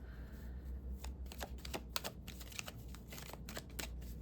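Tarot cards being shuffled by hand, a steady run of soft riffling flicks and papery slaps, close and fairly quiet, with no talking over it.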